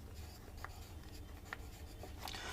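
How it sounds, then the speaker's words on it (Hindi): Faint marker or chalk strokes as a word is written on a board during a biotechnology lesson, with a few brief squeaks over a low steady hum. "अगर मैं यहां पे लिख दूं मैडम"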